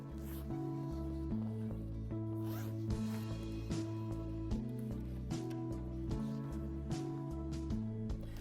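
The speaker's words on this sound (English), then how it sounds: "And then unzip the top and remove." Zipper pulled open along the top of a quilted latex mattress casing (Savvy Rest Serenity), its rasp running several seconds under a steady musical backing.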